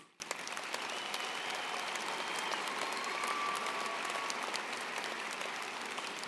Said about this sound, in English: Would you please join me in a round of applause for these students?